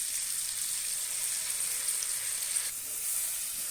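Black urad dal frying with salt in a pan, a steady close hiss of sizzling oil with faint stirring, no voices.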